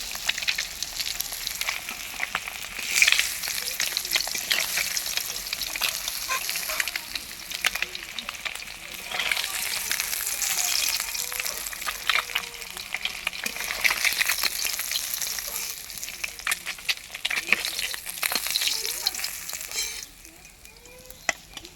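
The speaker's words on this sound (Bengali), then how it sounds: "বেশি ভাজবো না মাছগুলোকে এই যে এরকমভাবে ভেজে দিয়ে" Fish frying in a pan, a loud continuous sizzle and crackle up close, with occasional light stirring scrapes and a quieter stretch near the end.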